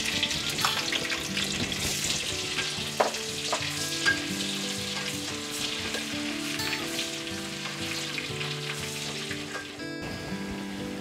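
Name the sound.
onions frying in hot oil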